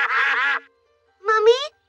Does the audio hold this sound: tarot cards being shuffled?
no